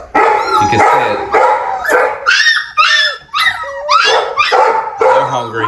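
Four-week-old Presa Canario puppies bark, yip and whimper close by in a loud, overlapping chorus of high, squeaky calls that runs without pause.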